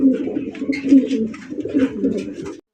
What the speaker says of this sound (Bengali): এখানে হচ্ছে একজোড়া রেড চেকার রেসার কবুতর